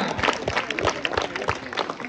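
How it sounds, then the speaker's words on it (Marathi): A crowd applauds as a student is called up at a school event, scattered clapping mixed with a voice talking and other background noise. "टाळ्या वाजवा"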